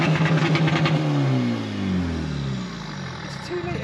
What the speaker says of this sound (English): It's a 2-litre diesel. 4-cylinder.